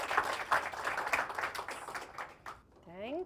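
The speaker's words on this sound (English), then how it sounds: "everyone gives you a huge round of applause" Audience applause at an event, a steady wash of clapping from a crowd that fades out toward the end before a voice begins speaking.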